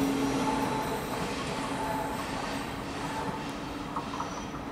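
A train at the Linz main station platform rumbles and hums steadily, with faint tonal whines and wheel noise carrying at close range and no talk over it.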